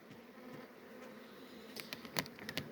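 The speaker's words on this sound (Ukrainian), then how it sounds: "Бджілки сидять ще, до задньої стінки половина рамок, сухо." Honeybees buzz around the hive during January cleansing flights, a faint, continuous drone with a few louder passes close by toward the end, no talking.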